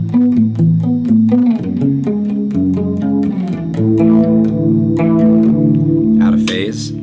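Electric guitar run through an Embrace chorus pedal, played in short staccato chords with a shimmering, sparkly modulated wash and a touch of echo, loud and close with no talking.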